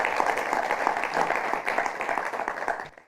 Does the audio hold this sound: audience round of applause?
yes